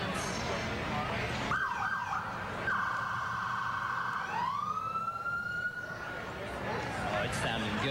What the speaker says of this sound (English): Love to hear those sirens.